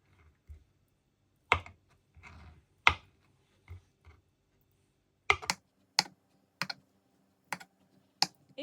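A knife chops hard-boiled eggs coarsely on a board, giving a series of sharp, separate taps spaced irregularly, a few at first and then a steadier run of about eight clear knocks, close up with no talking.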